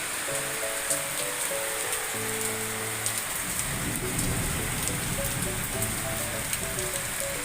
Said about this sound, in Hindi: देख लीजिए आप लोग भी, कितनी तेज बारिश हो रही है,